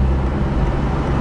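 A Sprinter van's poorly tuned diesel engine, its fuel pump out of adjustment, rumbles steadily and loudly up close in traffic, a continuous low drone with no talk over it.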